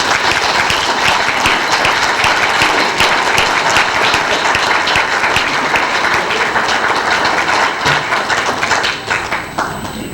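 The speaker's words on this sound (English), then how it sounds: "Big round of applause for the candidates and the media panel today." An audience at a 2012 county state's attorney candidate forum in Effingham County applauds the candidates and media panel, a loud, dense, steady round of clapping that fills the room before tapering off near the end.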